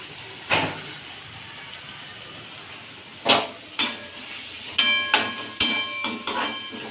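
A pot of black tea boiling on the stove, a low bubbling hiss punctuated by a few sharp clinks and bursts, close and moderately quiet, with no talking.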